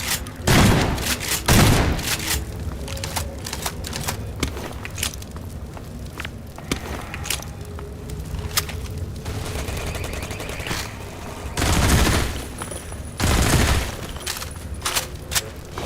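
Automatic turret gunfire in the Half-Life 2 MINERVA mod, heard as bursts of rapid shots in clusters near the start and again toward the end, with scattered footsteps and thumps between them.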